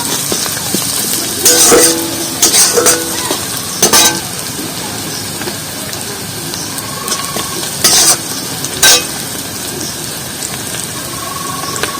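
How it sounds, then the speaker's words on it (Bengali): Onions fry in oil for a drumstick-leaf dish, giving a loud, steady, hissing sizzle throughout. Several short bursts of scraping and clattering come from the pan as they are stirred. "আর এই পেঁয়াজটা এটা ভালো করে কষিয়ে নেবো"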